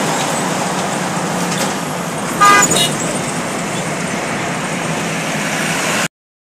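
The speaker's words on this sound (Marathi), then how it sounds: "मित्रांनो पहा आता चांदणी चौक आलेला आहे, तरी सुद्धा फुल जाम ट्रॅफिक आहे" Jammed traffic near Chandni Chowk on the Pune–Bangalore highway: a steady roar of idling and creeping cars, broken by one clear horn toot partway through.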